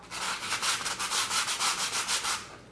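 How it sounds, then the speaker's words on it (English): Seeds are rubbed against sandpaper inside a box, a close, rhythmic rasping scrape repeating about every quarter second in steady strokes before fading out; no voices. "I like to cut a piece of sandpaper, put it in a box,"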